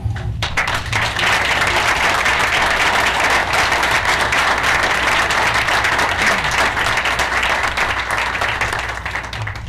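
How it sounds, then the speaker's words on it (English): A room full of people at a Renton city council meeting claps steadily for the chaplains, dense sustained applause running about ten seconds before tapering slightly at the end. "have them stand up and take a round of applause"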